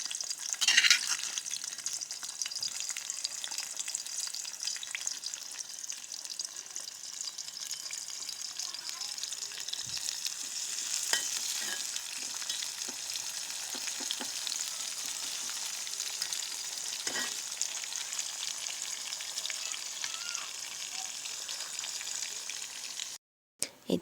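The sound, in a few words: sliced bitter gourd frying in hot oil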